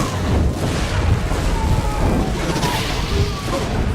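Booming cannon fire and crashing impacts in the fantasy action game Dungeon Siege III roll on for the whole stretch, loud and dense, layered with battle noise and a low, continuous rumble.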